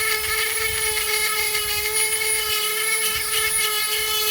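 A Dremel rotary tool spinning near 20,000 RPM with a Kutzall burr carves manzanita wood, a loud, steady high-pitched whine with faint rough grinding underneath, close and continuous.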